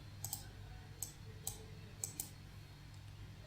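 A run of faint, crisp computer mouse clicks, about six of them, some in quick pairs, sounds close against a low steady hum in a quiet room.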